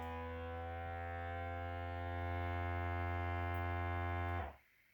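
A vacuum sealer runs its seal cycle on a food storage bag, giving a steady close electric hum for several seconds that swells slightly and then cuts off abruptly near the end.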